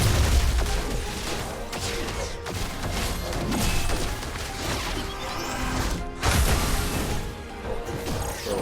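Swarm bombs going off in the video game Disney Mirrorverse: a dense, continuous barrage of crashing blasts and clattering impacts, with sharper booming bursts near the start and again later. No voices are heard.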